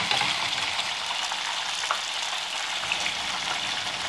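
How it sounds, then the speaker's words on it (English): Thinly sliced mushrooms sizzle and crackle in a hot pan, a steady bright hiss with a few soft pops and stirring sounds, close by with no talking. "I do like a bit of crunch to my mushroom, so I will be only frying them"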